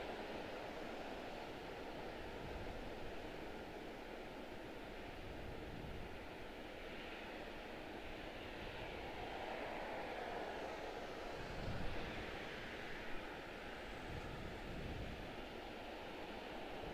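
An airplane landing on runway 19 center at Washington Dulles, a steady broadband roar and rumble heard from a distance, fairly faint and continuous with a slight swell near the middle.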